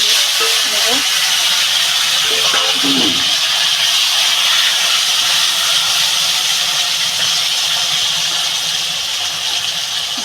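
Potatoes fry in hot oil with a loud, steady broadband sizzle and hiss that runs unbroken, and a voice speaks briefly near the start.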